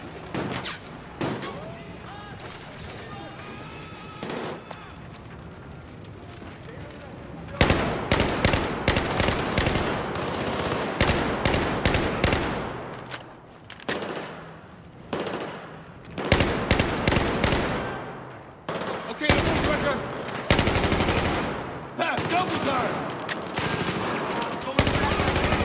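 Rapid bursts of automatic gunfire from a Battlefield 4 firefight, loud and close, with repeated volleys and short pauses over about twenty-five seconds; shouted voices come through between the shots.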